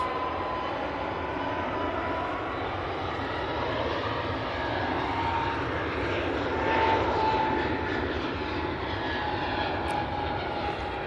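An EasyJet airliner bound for Innsbruck flies over the Manchester Airport area, its engines a steady, moderately distant drone that swells slightly partway through before easing off.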